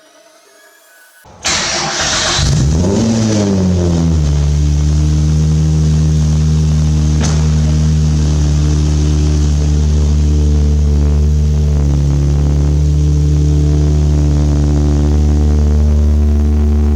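A cheap Nissan Maxima with a newly fitted exhaust and upgraded manifold cranks over and settles into a loud, steady, deep idle, with a brief blip of throttle partway through, close and continuous.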